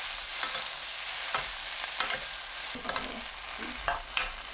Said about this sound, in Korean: 감자, 물 4큰술 넣고 섞어줍니다.